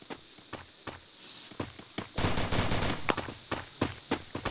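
Shotgun fire in a video game battle comes as sharp, loud blasts at irregular intervals, with a dense burst of overlapping shots in the middle.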